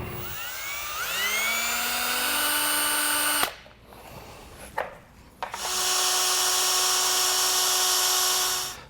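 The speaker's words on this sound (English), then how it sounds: "I'm going to drill just a small pilot hole through the wiring" A power drill bores a small pilot hole through a bracket for an LED cab light on a 2022 Chevrolet Silverado, whining up in pitch, pausing with a few clicks, then running again in a steady high whir.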